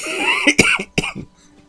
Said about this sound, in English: So if I'm coughing a little bit more today, that's probably why.